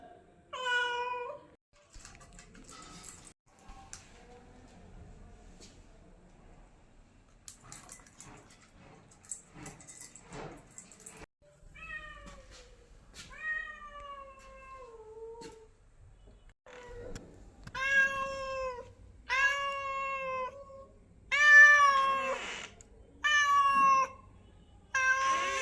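Hungry kittens meow loudly at home, their cries coming in repeated, increasingly frequent bursts with quiet gaps at first, the later calls louder and closer.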